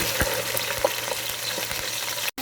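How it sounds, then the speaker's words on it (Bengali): Chopped onion fries in oil in a pot with bay leaf, cinnamon, cloves, peppercorns and cardamom, making a dense steady sizzle with faint bubbling, close by, ending in a sudden brief cut-out. "পেঁয়াজটাকে একটু ব্রাউন করে ভাজবো আমি"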